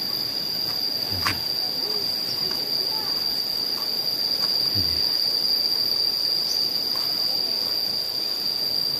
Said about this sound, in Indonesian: Suara tonggeret